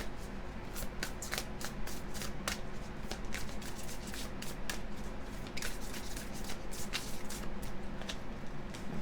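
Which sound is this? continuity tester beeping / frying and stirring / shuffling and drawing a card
shuffling and drawing a card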